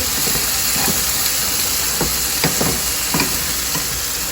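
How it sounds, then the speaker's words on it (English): Broccoli frying in a pan, sizzling steadily and close by, with several short scrapes and clicks as it is stirred; no one speaks. "our broccoli is also working. You just want to make sure you stir it."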